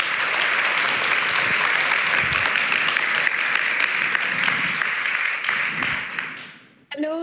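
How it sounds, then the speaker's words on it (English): An audience at a festival talk on women, men and power gives warm, sustained applause that fades out near the end, just before a voice begins speaking. "Give her a warm applause."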